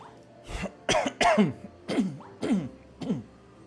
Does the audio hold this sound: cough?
yes